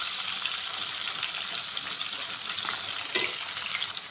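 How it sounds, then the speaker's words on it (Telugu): Onions and green chillies fry in hot oil with cumin in a non-stick pan, a steady close bright sizzle with a few small crackles and a light stir near the end, no voices. "ఇప్పుడు జీలకర్ర ఇలా వేగాక ఉల్లిగడ్డలు వేసుకోవాలి, అలాగే పచ్చిమిరపకాయలు కూడా వేసుకోవాలి"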